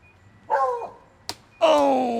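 A dog barks twice outdoors on a Florida disc golf course, each bark short, loud and close, with a brief slap between them.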